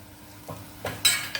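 A spoon stirs masala paste, salt, chilli powder and turmeric into fried onions for a mushroom curry, giving a few close scraping strokes with a soft sizzle and a sharper clink near the end.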